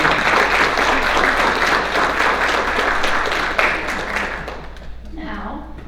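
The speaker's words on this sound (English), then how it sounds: "Applause to each and every one of you, and particularly Jackie." An audience at a Kiwanis club gathering applauds students, a broad, continuous patter of many hands that thins toward the end, with a voice talking faintly over the closing moments.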